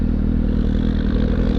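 A Suzuki GSX-S750 motorcycle being ridden, its engine a steady, loud, rumbling drone heard close up, with faint road and wind clatter and no voices.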